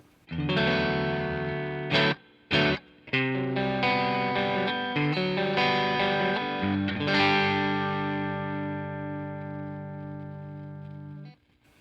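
Distorted electric guitar chords through a Catalinbread Karma Suture fuzz pedal ring out with a thick fuzzy buzz, a few quick stops and restarts, then a long sustained chord slowly decaying.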